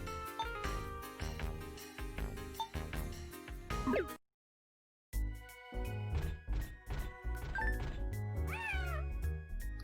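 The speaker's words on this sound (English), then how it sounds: "Another kitty cat." A cat meows repeatedly in the Phantasy Star 0 video game, several clear loud mews over game music and effects, broken by a brief silent gap midway.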